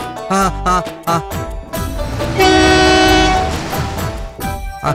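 A train rumbles past with clattering wheels and a loud, sustained horn blast in the middle, the noise heavy and close throughout.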